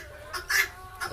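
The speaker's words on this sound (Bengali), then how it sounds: "এগুলো ডিম পাড়ার মুরগি" Egg-laying hens on a farm give a few short, close clucks, a brief burst of squawking calls rising over a quiet background.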